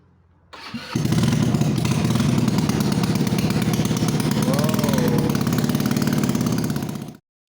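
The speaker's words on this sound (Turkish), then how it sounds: "bu yüzden motosikletimiz aşırı gürültülü çalışmaya başladı" A courier motorcycle with a broken exhaust split at the header and no working muffler fires up and runs loud and raw at a rough, throaty idle, with a harsh, unmuffled bark that holds steady for several seconds.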